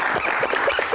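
An audience at a live Q&A event claps in a brief, moderately loud burst of scattered applause, with no speech over it.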